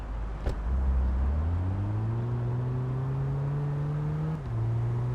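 A car in the video game Big Ambitions pulls away with a steady engine drone that climbs in pitch through the gear, then drops as it shifts up and carries on at an even hum. There is no talking.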